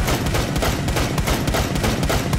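Dense, continuous video game gunfire crackles without letup, loud and close, with shots overlapping in rapid bursts.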